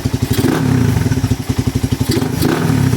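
A freshly built Suzuki Raider 180cc carbureted motorcycle engine revs up with a rapid, pulsing putter, surging and dropping a few times, loud and close.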